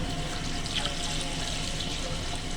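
Water poured steadily into a cooking pot on the stove for a chicken yakhni pulao, a continuous close rushing splash with no speech.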